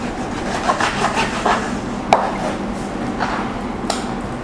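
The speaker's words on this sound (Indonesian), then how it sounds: "pertama-tama kita potong ayamnya dulu ya. Kita bagi 2 nih." A knife cutting raw chicken in half on a cutting board, soft repeated scraping and chopping strokes with a sharper knock around the middle, close and moderate in level.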